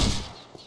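One gunshot goes off in the video game Postal 2, with a loud burst at the start that fades into a short, dull tail. No one speaks over it.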